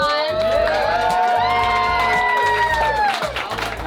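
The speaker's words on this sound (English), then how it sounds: "So let's all give a round of applause." A crowd aboard a sailing catamaran gathering applauds and cheers, with whoops and shouts over sustained clapping, loud and close, with voices mixed throughout.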